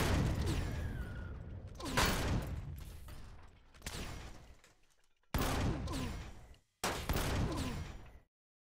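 Bursts of gunfire from a sci-fi survival shooter set in an abandoned factory ring out in several loud volleys separated by short pauses, with mechanical clatter between shots.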